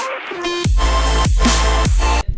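Melodic dubstep excerpt: loud, dense bright synth chords over heavy sub-bass pulses that hit in a steady repeating rhythm about every four-fifths of a second.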